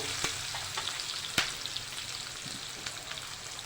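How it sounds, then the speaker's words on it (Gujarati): Chilli pieces sizzle steadily in a hot pan over a medium gas flame, with occasional sharp clicks and scrapes as they are stirred. "હવે આપણે મરચાંના ટુકડા લઈ લઈશું બરાબર હલાવી લઈશું"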